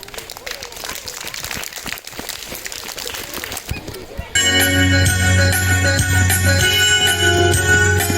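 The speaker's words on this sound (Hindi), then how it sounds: "जोरदार तालियों के साथ स्वागत कीजिए।" Loud, dense applause from a school audience at a Hindi Diwas event, lasting about four seconds before a prayer song with instruments begins and takes over.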